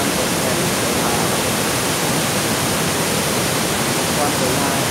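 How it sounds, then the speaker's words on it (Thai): Kaeng Sopha waterfall in Wang Thong district roars as a steady, loud, broadband wash of falling water, unbroken throughout with no talk. "น้ำตกขนาดใหญ่ของ อำเภอวังทองครับน้ำตกแก่งโสภา"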